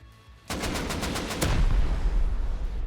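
Gunfire in the video game Rust: a quick burst of about seven rapid automatic shots, loud and close, then a rumbling heavier blast and lingering noise.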